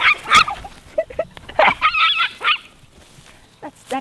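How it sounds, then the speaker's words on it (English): A small dog yelping and yipping in short, high, excited bursts, close by and fairly loud, with quieter gaps between. "That dog is such a little yelper."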